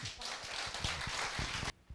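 A hall audience at a philosophy forum breaks into dense, sustained applause that fills about 1.7 seconds, then cuts off abruptly, leaving a few faint scattered claps.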